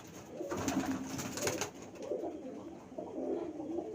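Male pigeons in a loft coo steadily in low, repeated throaty murmurs, several birds overlapping close by against a continuous background hum.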